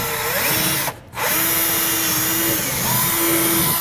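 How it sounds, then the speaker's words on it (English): Power drill boring out the center of a rivet while installing an EcoHitch Stealth trailer hitch receiver on a vehicle, a loud steady whine that cuts out briefly near the start, then resumes and runs on with shifting pitch. "you drill out the center"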